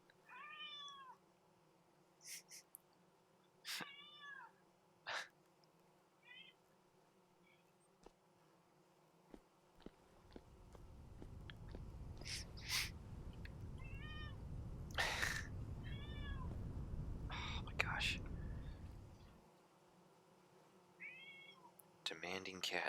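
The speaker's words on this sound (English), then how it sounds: "Demanding cat." A demanding house cat meows in short, insistent calls spaced through the stretch, with a fuller rustling noise swelling in the middle and a quiet room behind.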